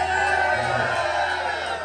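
A live concert crowd at the Majestic in Fort Smith cheers and whoops in a dense, steady roar of many voices that fills the room and fades only slightly toward the end.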